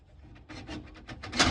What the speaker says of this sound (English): Next step will be to put the burner assembly back in place